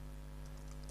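Faint, soft keyboard taps on a computer keyboard while entering a command at a Windows command prompt, set against a steady electrical hum with no speech.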